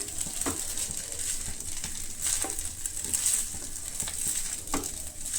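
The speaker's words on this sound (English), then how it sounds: "you can see there's a sizzling sound" Egg fried rice sizzles steadily in a hot pan while it is stir-fried. Several sharp scraping stirs cut through the crackle at irregular intervals.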